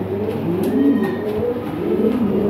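Large European Lahore pigeons coo in a low, steady, repeating burble throughout, close and fairly loud, with no talk over it.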